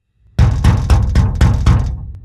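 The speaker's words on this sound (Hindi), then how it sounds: "उसने दरवाजा नॉक किया।" A fist knocks on a house door in five heavy, evenly spaced raps, close and loud with a short ring-out after the last.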